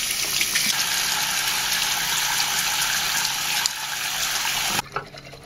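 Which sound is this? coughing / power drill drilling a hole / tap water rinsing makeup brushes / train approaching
tap water rinsing makeup brushes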